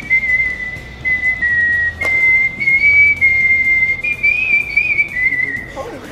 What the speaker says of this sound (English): My talent is whistling.